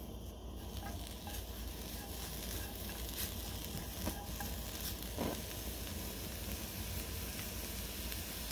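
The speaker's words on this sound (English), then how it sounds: "Oh, I hear it sizzling." Fiddlehead ferns sizzle steadily in a hot pan, a constant crackling hiss with a few sharper pops, close by and with no voices.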